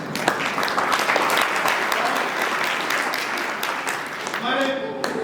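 Audience at a scouts felicitation ceremony breaking into loud, dense applause that carries on steadily, with a voice speaking briefly near the end.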